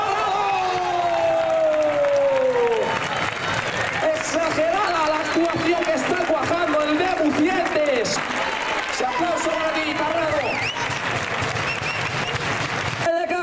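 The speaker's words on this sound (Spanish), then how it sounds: "Palmas, palmas, palmas." A crowd applauds with dense, sustained clapping and some cheering at a brave-bull contest in Simancas in 2023. An announcer speaks over the noise.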